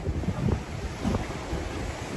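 Ocean waves on the Caribbean Sea surge and wash around a sailboat on a solo crossing, a steady rushing roar with mild wind noise and no voices.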